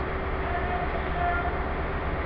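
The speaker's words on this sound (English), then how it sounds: "I think we have some freight passing through now, I think." A freight train rumbles through Plymouth station, a continuous low, heavy roar of wagons rolling past the platform at a steady level, with faint tonal squeals from the wheels or rails.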